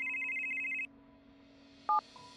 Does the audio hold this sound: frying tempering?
no